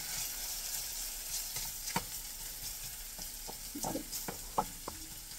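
Potatoes fry in a pan with a soft, steady sizzle, broken by scattered clicks and scrapes of stirring close by.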